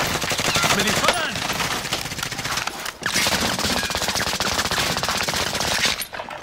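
Dense automatic gunfire from a Warzone firefight rattles almost continuously at close range, with a short break near the middle and a faint voice beneath the shooting.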